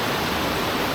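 Nant Melyn waterfall pours in a dense, continuous broadband rush, loud and close with no breaks and no voices.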